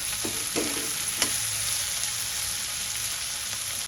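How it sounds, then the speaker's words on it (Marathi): Spring onion, capsicum and salt sautéing in a pan for veg fried rice, with a steady close sizzle and a few sharp stirring scrapes near the start. "शिमला मिरची घालूया, मीठ घालूया, मी परतून घेऊया"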